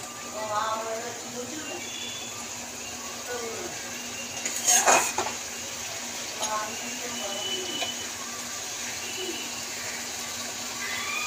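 Spices being stirred and fried in a pan for doi katla, with scraping and light metallic clinks of a utensil against the pan, a sharper clatter near the middle, under steady low kitchen noise and intermittent talk.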